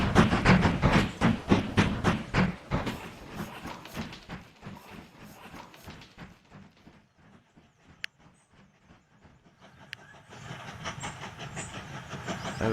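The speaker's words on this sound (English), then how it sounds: "There we go, our log train's working" A log train in the Mashinky video game rolls along rails with a rapid rhythmic clickety-clack that slows and fades, then a softer rumble returns near the end.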